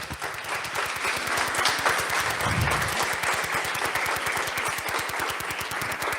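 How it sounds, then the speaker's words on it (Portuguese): A church congregation applauds in a steady, rhythmic unison clap, fairly close and continuous, with a brief louder rustle partway through and no talking. "Se você crê, aplauda o nome de Jesus."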